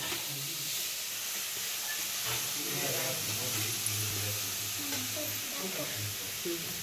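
Cluster beans sautéing in a pan with steady sizzling and hiss, plus soft stirring scrapes, close but quiet, with faint voices in the background.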